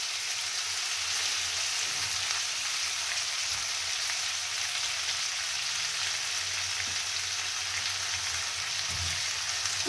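Peas and beans frying in a pan with bay leaf, cumin and garam masala, with tomato, green chili and ground paste, make a steady close sizzle that runs unbroken, alone and without talk.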